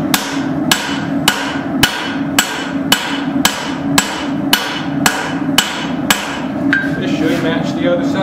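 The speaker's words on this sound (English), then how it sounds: "forge this to the same thickness with the same hammer." A hammer strikes a hot hatchet head on an anvil, about a dozen loud, sharp ringing blows in an even rhythm, close and clear, ending with lighter clinks.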